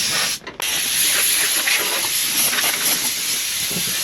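Air blown through a vacuum line on a 1973 Dodge Charger project car, a loud, steady, close hiss that briefly cuts out near the start and then runs on continuously.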